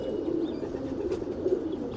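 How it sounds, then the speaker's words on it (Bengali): A pigeon coos softly and repeatedly at close range over a faint, steady background hum. "মাশাআল্লাহ একটা কবুতর, অনেক সুন্দর কবুতর।"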